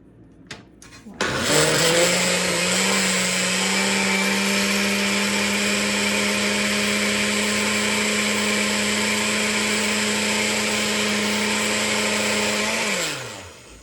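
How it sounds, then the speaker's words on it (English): A kitchen blender whirs through keto chocolate chip chaffle batter, running loud and steady for about twelve seconds before winding down. "We're going to put the lid on and we're going to blend this."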